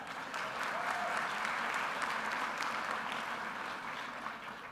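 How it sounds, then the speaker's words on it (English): Audience at a fall college convocation applauding, a steady wash of many hands clapping, fairly faint and distant, sustained for the whole stretch. "You can give a round of applause for that."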